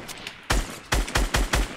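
Gunfire in the Fortnite video game: a burst of about five sharp, loud shots in quick, slightly uneven succession, with a quieter muffled pop before them and no talk.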